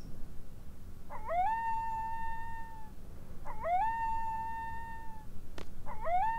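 A dog howls in long, rising and then sustained wails, three in a row with short pauses between them, loud and close with no talking.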